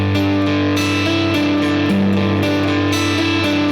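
Electric guitar plays a chord pattern, sustained clean tones shifting between notes in an even rhythm, close and moderately loud with no talk.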